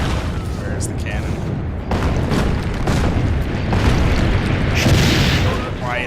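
Cannons fire in the video game Assassin's Creed: Brotherhood, sending heavy booms in quick succession, one after another, over a rough, rumbling background.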